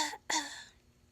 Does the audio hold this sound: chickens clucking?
no